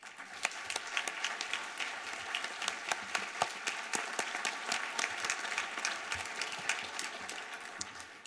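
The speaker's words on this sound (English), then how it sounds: "Please join me in a concluding round of applause" A full room at a 2017 alumni awards reception breaks into sustained applause, a dense, even crackle of many hands clapping continuously, with no voices over it.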